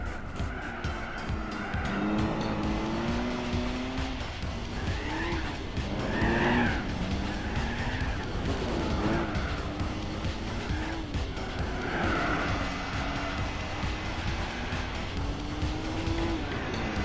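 A big-block Buick custom car races in Gran Turismo 4, its engine roaring continuously with rising and falling revs as tires squeal through repeated hard corners.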